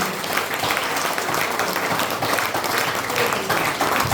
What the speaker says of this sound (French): You are not clapping for me.